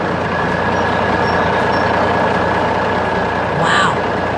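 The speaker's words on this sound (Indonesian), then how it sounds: "mesin konstruksi kuning besar sedang bekerja di tengah gunung yang keras, menarik beban besar dengan semangat yang luar biasa" A large yellow construction machine in an animated scene working on a hard mountain, hauling a heavy load; a steady loud engine rumble with a brief higher mechanical whine near the end.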